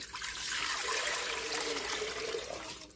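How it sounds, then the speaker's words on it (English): Two quarts of water pour steadily into a cooking pot in a continuous splashing rush, close and fairly loud, for about three seconds with no talking. "And we're going to pour in 2 quarts of water."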